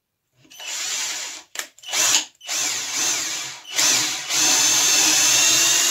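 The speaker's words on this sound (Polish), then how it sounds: "Teraz musimy przewiercić to" A cordless power drill bores into wood while a bit holder is made, whining in several bursts separated by short pauses, then running steadily toward the end, close and clear.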